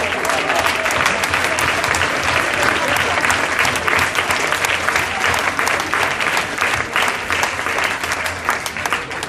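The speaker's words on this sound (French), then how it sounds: "Ouais, on peut applaudir." Audience applause at a radio showcase in Nice, 2016: continuous, close, dense clapping from a crowd, loud and even for the whole stretch, with no talk.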